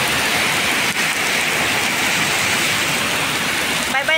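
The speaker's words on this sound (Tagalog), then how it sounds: "saka paumulan ng ganito kalakas." Heavy rain pours down in a dense, steady roar that stays loud and close from start to end, with no breaks and faint voices mixed in under it.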